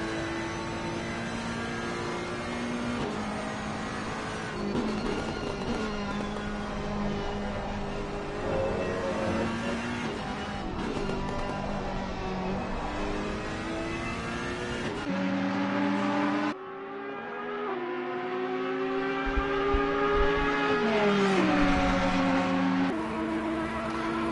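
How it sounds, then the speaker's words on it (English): Ferrari and Audi race cars lap the Nürburgring during an NXTGEN race, engines droning and shifting pitch continuously, loud and close with a sudden change as one car passes through and another roars in. "it looks as though the Ferrari was still able to get the power down just a touch better there"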